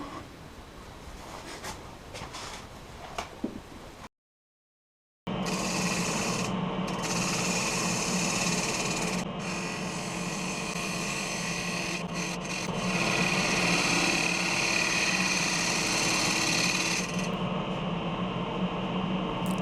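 A 1/2 inch bowl gouge cuts a wooden lidded yarn bowl spinning on a lathe. The steady scraping, rasping cut runs for most of the stretch after a brief silent gap.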